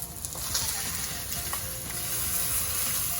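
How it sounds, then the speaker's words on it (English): Salmon fries in a pan with a bright, continuous sizzle and crackle, with occasional faint spatula or chopstick touches. "my fish is able to slide quite freely. I think it's not sticking to the pan."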